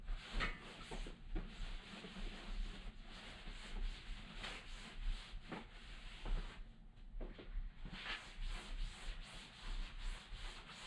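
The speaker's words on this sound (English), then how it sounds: "And I'm just wiping everything." A damp cloth rubs over tent fabric while waterproofing a tent, giving steady, soft swishing strokes in a continuous rhythm with brief pauses, close and fairly quiet, with no talking.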